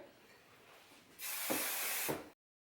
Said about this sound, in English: Hairspray.